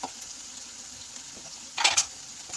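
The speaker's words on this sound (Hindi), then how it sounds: "अब इसमें डालेंगे चिकन और उसके बाद इसको थोड़ा सा भूनेंगे" Chicken frying in masala in a pan, a soft steady sizzle in the background with a brief louder stir-and-hiss flare near the end, no talking.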